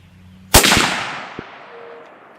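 A single sharp, loud .270 Winchester rifle shot cracks once at an outdoor range during sight-in at 100 yards, then a long rolling echo decays away over the next two seconds, with a small click afterward.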